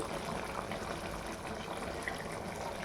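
Country chicken rasam bubbling in a pot on the stove, a soft, steady simmering and gurgling of thin broth heard up close for a few seconds.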